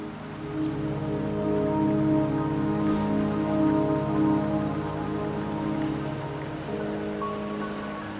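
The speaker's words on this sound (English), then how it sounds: "Don't worry, the rain won't last much longer." Steady rain falls in the Wuthering Waves video game on the way to Mount Firmament, a dense, even patter that holds at constant loudness for several seconds under a low tonal music bed, with no talking.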